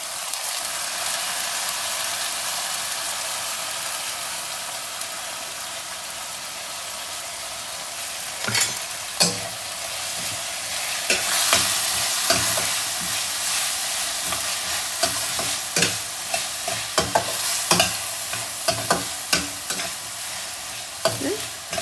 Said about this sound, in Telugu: సో ఇట్లా కొంచెంసేపు ఇలా ఫ్రై చేసుకొని